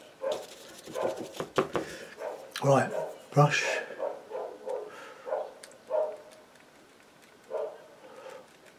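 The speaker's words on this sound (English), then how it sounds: "Now his dogs have started, that's great, isn't it?" Dogs bark and yip in short, sharp bursts, some loud and close, others fainter, while a person talks quietly in a calm voice during an afternoon acrylic painting session.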